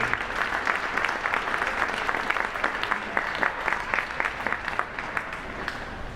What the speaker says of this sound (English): let's give a round of applause for head coach Danny Song and the coaching staff from Case Western Reserve University